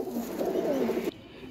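A Cheena pigeon, a high-flyer breed, gives a close, soft throaty coo with a rising and falling warble that stops abruptly, followed by quiet.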